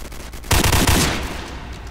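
A submachine gun fires in a Roblox first-person shooter. After a short quiet lead-in there is one loud, rapid burst of about half a second, which then trails off into a fading echo.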